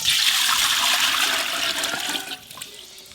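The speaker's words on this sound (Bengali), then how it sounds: "এবার বিরিয়ানি ভাতটার জন্য আমি জল বসিয়ে দেবো" Water runs steadily into a cooking pot for mutton biryani rice in a home kitchen, a continuous rushing splash that tapers off near the end, with no talk over it.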